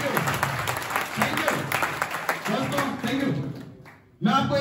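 Applause from a seminar audience greets first-time attendees at an AWPL business meeting, a steady wash of clapping under a speaker's voice that cuts off sharply near the end before resuming.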